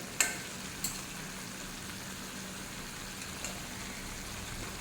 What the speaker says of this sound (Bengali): হাই ফ্লেমে মিনিট খানেক রান্না করলেই হয়ে যাবে এই চুনো মাছের চচ্চড়ি